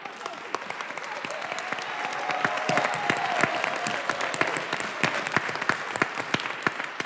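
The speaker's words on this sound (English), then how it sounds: "I want to give her coaches a round of applause" A round of audience applause for a student's coaches at a school board meeting, sustained and even clapping from a seated crowd throughout, with a few louder claps standing out.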